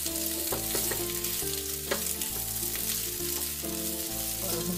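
Potatoes with chopped green coriander fry in a pan while being stirred, a steady close sizzle with occasional scraping strokes against a constant humming tone, and no one talks.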